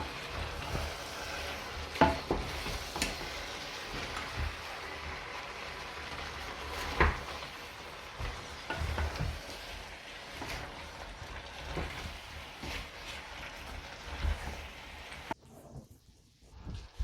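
Frozen broccoli and cauliflower cooking in a pan for a vegan curry sauce, a faint, steady hiss of sizzling with a few soft clatters, cutting off abruptly near the end.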